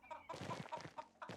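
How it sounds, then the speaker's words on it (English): Chickens clucking in the video game Pentiment, a quick run of short, choppy clucks and squawks close by, several bursts within a second or so. "Where'd that chicken go?"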